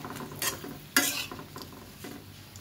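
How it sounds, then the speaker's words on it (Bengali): Ripe banana fritters sizzle in a pan of hot oil, with sharp scraping stirs of a spatula breaking through the frying hiss at intervals. "এক চার ভাজা হয়ে গেছে এবং আর এক চার আমি ভাজতেছি।"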